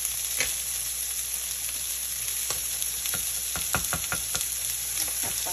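Salmon fillet and asparagus fry in a pan with a steady, close sizzle and crackle, punctuated by a few sharp pops and utensil clicks, with no voices.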